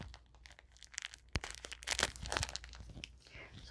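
A craft supply package is torn open by hand, with crinkling plastic, sharp rips and crunching bursts coming in an irregular run, close and fairly quiet, with no talking.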